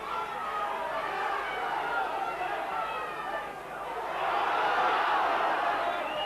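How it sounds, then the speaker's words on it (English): A rugby league stadium crowd howls and jeers for offside, a dense roar of massed voices that dips briefly then swells louder again, with general chatter mixed through. "The crowd howling for offside at the moment."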